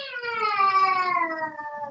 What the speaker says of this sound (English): That was a great siren.